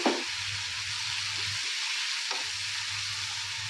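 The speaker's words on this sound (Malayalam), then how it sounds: "നമുക്ക് ഇളക്കി യോജിപ്പിക്കാം." Tomatoes and onions fry in a pan, a steady hiss of sizzling broken by scraping stirs at the start, around the middle and near the end, close and moderately loud with no talking.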